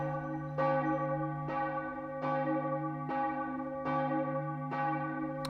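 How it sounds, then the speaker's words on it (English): A funeral bell tolls in the video game The Case of the Golden Idol, a deep resonant church-style bell struck six times at an even, slow pace, each stroke ringing out and decaying into the next. "There's a bell."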